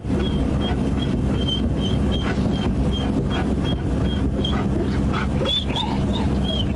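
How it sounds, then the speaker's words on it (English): A dog whines and whimpers in repeated high-pitched cries, with a few sharper barks toward the end, all over continuous outdoor wind rumble. "God damn, that dog sounds ready to work,"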